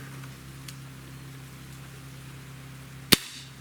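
A Cometa 94 breakbarrel air rifle fires a single sharp shot near the end, a loud close crack over a steady low hum.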